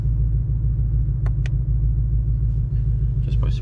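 A 2020 Shelby GT500 in sport mode cruising on back roads, its engine giving a deep, loud, steady rumble with a pulsing low burble from inside the car.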